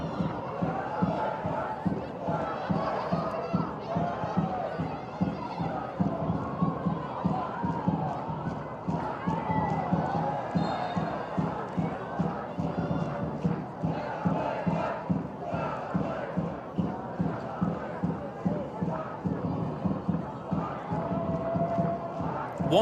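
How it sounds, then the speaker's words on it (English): The Werder Bremen home crowd chants rhythmically at a football match against Bayer Leverkusen, a dense, steady pulse of many voices with regular clapping-like beats that continues throughout, and a commentator talks over it. "Werder Bremen score a goal is the chant from the home crowd"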